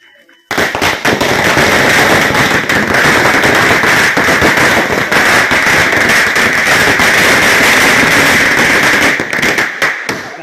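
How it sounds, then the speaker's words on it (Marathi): A long string of firecrackers set off at a Tulsi wedding celebration in a village, with dense, rapid crackling bursts that are loud and continuous for about ten seconds and then cut off abruptly. "माळ लावायला तयार राहा फटाक्याची"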